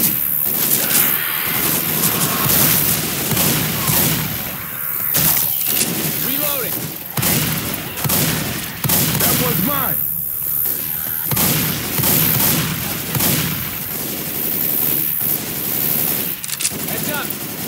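Rapid shotgun blasts from an auto shotgun in Left 4 Dead 2's Dark Carnival campaign, played single player on Expert, crackle and boom in dense repeated bursts mixed with other gunfire and explosions, with game voices talking over them.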